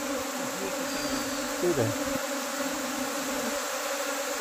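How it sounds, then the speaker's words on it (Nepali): A newly arrived swarm of honey bees hums in a steady, dense drone nearby, with a brief spoken voice cutting in partway through. "हेर्नुहोस् है मौरी"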